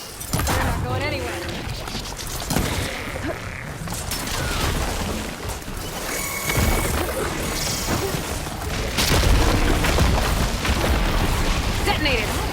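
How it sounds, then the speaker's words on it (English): Explosions and rumbling blasts from Horizon Forbidden West: Burning Shores roll on under a voice, mixed with mechanical clanks and creaking debris, building louder toward the end. "Detonated!"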